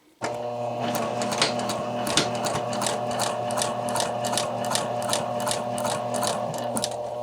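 A sewing machine stitches bias tape as a neckline facing, starting abruptly and then running at a steady pace with a rapid rhythmic clatter over a motor hum, close and loud with no talk.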